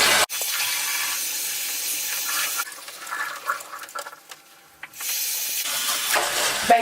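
Cold water runs steadily from a tap over bleached hair at a sink, a loud continuous hissing splash that dips and thins midway as the flow is interrupted, then returns at full strength.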